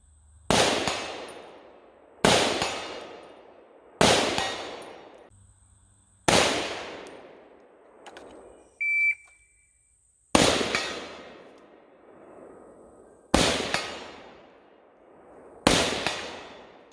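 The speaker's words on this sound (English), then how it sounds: "Just put a few rounds through the rifle, make sure it works, get it a little bit hotter" Daniel Defense DD5 V3 .308 rifle firing Freedom ammunition, eight loud, sharp shots spaced about two seconds apart, each with a decaying echo tail, heard alone with no talking.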